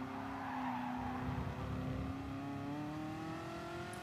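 Race car engine in Gran Turismo Sport holding a steady high drone with slight pitch rise and tire noise, loud and continuous with no talking.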